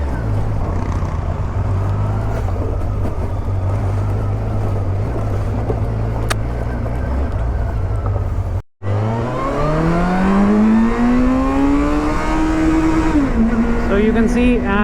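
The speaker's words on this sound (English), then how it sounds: "So you can see at first gear it can easily touch 90." Kawasaki Versys 1000 motorcycle engine drones steadily, then after a brief gear change pulls hard, the revs climbing sharply in first gear as a loud rising roar, with heavy wind rush throughout.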